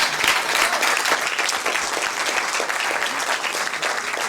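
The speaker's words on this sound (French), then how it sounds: "Tout le monde t'applaudit, à très juste titre, Paul-Émile" An audience applauds at a professional medical conference after a presentation, with steady, dense clapping that holds at full strength throughout.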